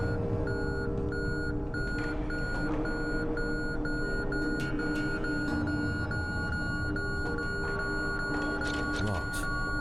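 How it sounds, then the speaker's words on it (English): Repeated electronic beeping from a device in the horror video game Conarium, a regular tonal pulse over a low ambient drone, steady and moderately loud throughout. "dare I find out why this thing beeps?"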